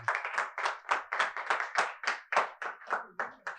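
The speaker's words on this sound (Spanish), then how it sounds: "Dale un fuerte aplauso al Señor." A church congregation claps in unison, a loud, close, regular beat of about three claps per second that continues steadily throughout with no talk over it.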